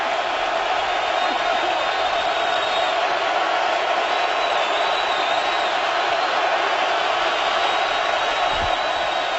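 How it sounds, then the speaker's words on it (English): A loud, steady roar from a packed Seahawks stadium crowd at an NFL football game against the Vikings, a dense, unbroken wall of noise lasting throughout. "the hands over the ears signify this electric crowd noise"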